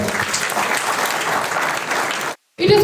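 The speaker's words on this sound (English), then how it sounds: "Can we please have a huge applause, sir?" Steady, dense applause from a conference audience, sustained loud clapping that fills the room before cutting off abruptly near the end.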